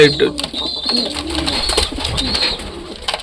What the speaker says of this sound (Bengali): ওই দেখো রোমিও বাইরে বেরোনোর সময় ডাকাডাকি করে